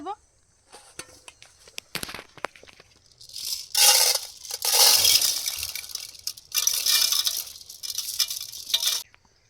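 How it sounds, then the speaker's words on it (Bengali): Raw rice poured into a cooking pot for pulao, several loud, close, gritty rushing pours of grains separated by pauses, with a few clinks of the pot before the pouring starts. "হাঁড়িতে চালগুলো ঢেলে"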